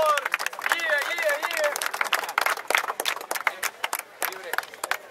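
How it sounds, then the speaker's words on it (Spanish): Crowd at a Spanish-language freestyle rap battle claps and cheers while a host's voice calls out over the noise, the applause dense and fairly close, with shouting voices mixed in. "Un aplauso, por favor."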